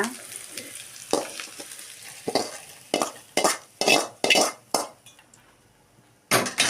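Onions fry in a pan for a fish gravy, with a steady sizzle broken by a series of loud scraping stirs and utensil clatters against the pan near the end.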